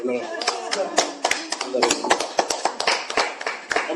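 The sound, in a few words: church congregation applauding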